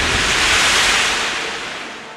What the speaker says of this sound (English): The water in front of the propeller churns into white foam.